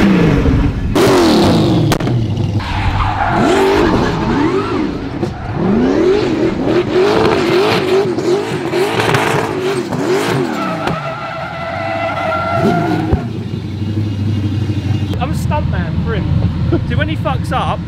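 A Nissan GTR drift car revs and drives at Goodwood, loud engine sweeps rising and falling with tire squeal, while people talk over the noise.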